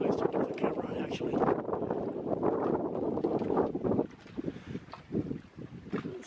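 Strong wind buffets a sailboat during a windy day ahead of a tropical storm, a steady loud roar and microphone rumble that eases slightly toward the end.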